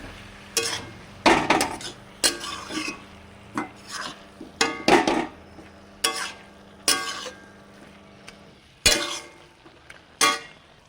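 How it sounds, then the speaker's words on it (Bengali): Cabbage curry, vegetarian, being stirred in a pan with the lid off: a series of irregular scraping and clattering strokes of a utensil against the pan, fairly close, with a faint sizzle underneath between strokes and no talking. "ঢাকনাটা উঠিয়ে নেওয়ার পর আরেকবার নাড়িয়ে"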